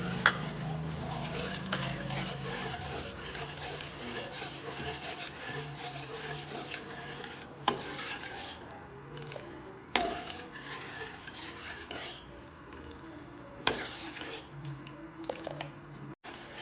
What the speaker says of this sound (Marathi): सतत ह्याला हलवतच राहावं लागते. खिरीला